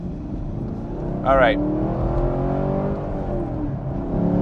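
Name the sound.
Chevrolet Camaro SS 1LE exhaust revving in loudest mode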